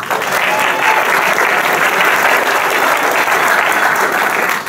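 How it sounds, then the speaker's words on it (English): Sustained round of applause from an audience at the ACLU of Northern California's annual Bill of Rights celebration, dense and steady throughout with no speech. "Give yourselves a round of applause."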